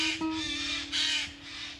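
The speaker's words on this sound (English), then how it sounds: "It also makes the most horrible sound I've ever heard a bird make." A Eurasian jay, a crow-family bird living around oak trees in Central Europe, gives two harsh rasping screeches, close and clear, with a brief click at the start.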